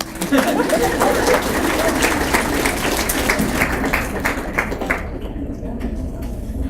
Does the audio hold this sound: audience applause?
yes